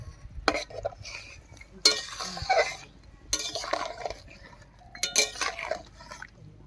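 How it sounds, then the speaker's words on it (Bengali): Rui fish curry with fried spices being stirred in a pot, with several bursts of spoon scraping and clinking against the metal, separated by short quieter pauses. "এবার খুব ভালো করে মিশিয়ে নেব"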